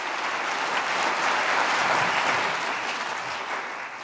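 An audience at a college tenth-anniversary event applauds two board members, a dense, steady wash of many hands clapping that fades slightly toward the end, with no voices.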